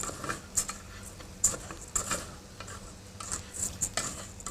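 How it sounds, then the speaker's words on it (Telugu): Galinhada mixture being stir-fried in a pan, with a soft, steady sizzle under scattered spoon scrapes and light clinks against the metal, heard up close with no talking. "అది స్టర్ ఫ్రై చేసుకొని"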